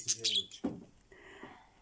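A few quick, high bird chirps sound close by at the start, followed by soft, faint murmuring.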